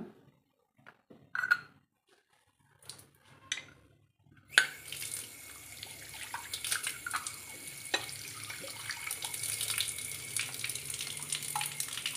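Water poured into a small tortoise figurine during home worship, a steady trickling splash that starts after a few faint knocks and clinks and continues to the end, with no talking.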